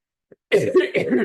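A short, close cough fit during a board of education meeting: a faint catch of breath, then three or four harsh coughs in quick succession.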